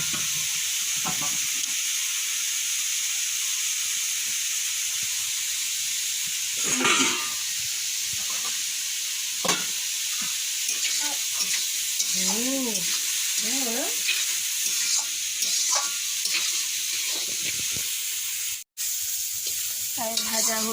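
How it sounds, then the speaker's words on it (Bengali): Potatoes and mixed vegetables fry together in a pan with a loud, continuous hissing sizzle, broken by occasional stirring scrapes and brief faint voices in the background. "এখন আলু দিয়ে দিচ্ছে সব সবজি একসঙ্গে ভেজে নেবে"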